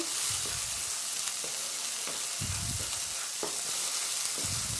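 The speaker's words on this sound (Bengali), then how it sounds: "আমি আলু বা অন্য কোনো সবজি দিইনি, শুধু মাছটা রান্না করছি" Fish cooks alone in a pan without potatoes or other vegetables, giving a steady close sizzle with occasional stirring scrapes and soft knocks throughout, no speech.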